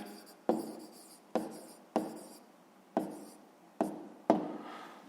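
Handwriting on paper by someone noting down digits for a sixth-grade maths exercise: six sharp taps, each followed by a short scratchy stroke, evenly spaced and close.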